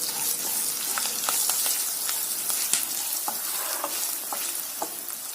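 Grated raw mango sautés with turmeric and fresh grated coconut in a pan, a continuous close sizzle with frequent stirring scrapes and light clicks of the spoon, no talking.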